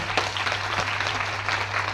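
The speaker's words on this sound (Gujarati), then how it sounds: "તો એકવાર તાળીઓ પાડી દેજો" Audience applause at a Leuva Patidar community event in Patan, a steady wash of many hands clapping for two seconds with faint background voices.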